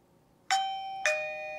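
A Eufy E340 electronic video doorbell rings a clear two-note ding-dong, each tone ringing on briefly in a quiet room.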